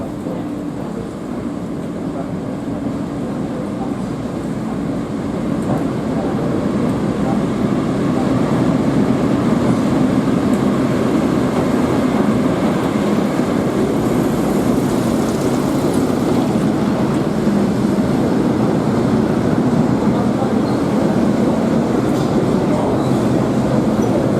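A pair of Class 08 diesel shunting locomotives arrives with a train from Quorn, making a continuous heavy rumble of wheels and engines that swells slightly as it draws nearer.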